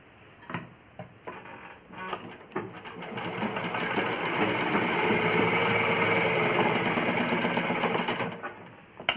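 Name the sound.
sewing machine stitching a child's umbrella frock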